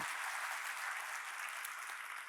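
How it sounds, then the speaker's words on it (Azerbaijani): An audience at a forum event applauds a guest speaker with steady, dense clapping that stays even throughout, heard from within the room without any voices. "İstəyərdim Betül xanımı da elə bir alqışlayaq."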